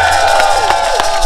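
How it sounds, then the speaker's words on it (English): Rally crowd at a veto override event answering a call for a round of applause, a dense sustained wash of cheering and clapping with sharp bursts rising through it, loud and close throughout. "So how about a round of applause for that?"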